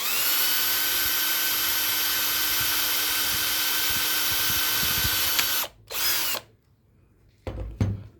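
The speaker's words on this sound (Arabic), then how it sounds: "هعمل عندي هنا ثقب صغير هنشوف مع بعض ليه" Small electric drill boring a hole into the casing of a homemade rechargeable flashlight, a steady high whine lasting about five seconds, then stopping, followed by a short second burst and brief handling noises.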